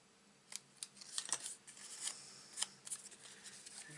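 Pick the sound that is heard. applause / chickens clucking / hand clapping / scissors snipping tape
scissors snipping tape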